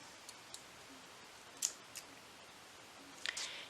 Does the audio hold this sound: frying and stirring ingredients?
no